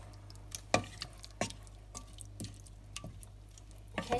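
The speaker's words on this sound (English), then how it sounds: "I'm just going to mix it in, incorporate it" Canned tomatoes being stirred and folded into a pot of chicken tikka masala, with a handful of soft wet squelches and drips spaced irregularly over a low steady hum, close and fairly quiet.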